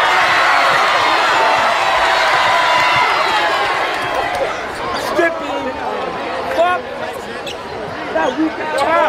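Loud crowd noise at an AAU summer basketball game in a packed gym, sustained roar and cheering with shouts breaking through, fading slightly midway as sneaker squeaks and ball bounces surface, with people talking close by.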